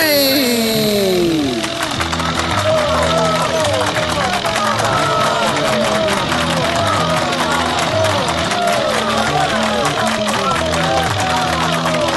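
A specially built tractor fitted with salvaged Royal Air Force parts, entered as competitor number 3 at a village contest, runs loud and continuous with a steady engine drone, while a crowd's chatter and cheers mix in over the top.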